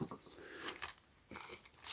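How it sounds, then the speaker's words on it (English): A plastic bag from a dash cam box is handled close by, giving short soft crinkling and rustling bursts separated by brief pauses. "somehow there's a plastic bag over here."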